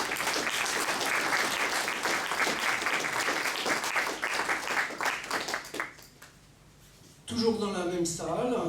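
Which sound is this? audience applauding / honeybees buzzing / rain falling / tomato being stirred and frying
audience applauding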